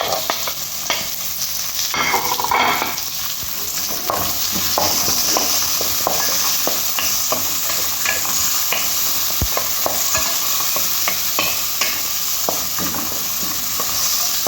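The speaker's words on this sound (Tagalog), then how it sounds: "Ilagay natin ang maraming sibuyas." A large batch of onions sizzling in a pan as a base for mung bean stew with chicken, loud steady frying crackle with frequent scraping stirs and clinks of the spatula, close by and without speech.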